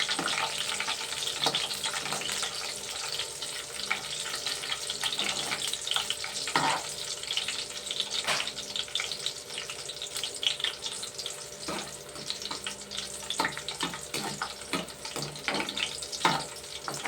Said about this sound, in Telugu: ఇందులో ఎండుమిరపకాయలు వేస్తున్నాను అండి